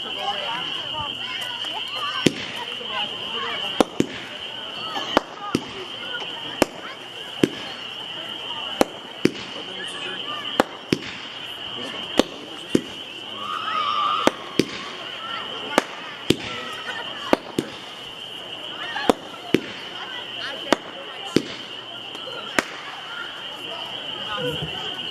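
Silent Power, a 15-shot firework repeater cake by Window, fires a long series of sharp, evenly spaced pops over a steady hiss and crowd murmur, with voices chatting in the background.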